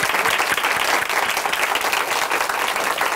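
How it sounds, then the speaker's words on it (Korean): A church audience at a Korean Christian broadcast testimony program claps steadily, a dense, even burst of applause filling the room from start to finish with no voices. "다시 한번 박은영 자매님께 박수 부탁드립니다."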